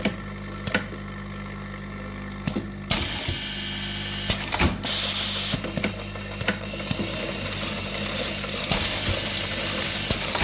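An automatic screw-feeding screwdriver runs with rapid ratcheting and clicking gear noise. Sharp mechanical clacks come at irregular intervals over a steady motor hum, heard close up without speech.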